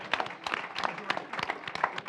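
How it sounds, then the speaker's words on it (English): An audience at a startup pitch night investment summit applauds the five pitchers. Many hands clap in a dense, irregular burst at moderate loudness, with no one speaking over it. "let's get a big round of applause for all 5 pitchers here"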